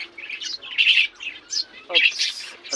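Young Maya sparrow chicks chirp close by in a quick run of high, thin, overlapping peeps with short gaps.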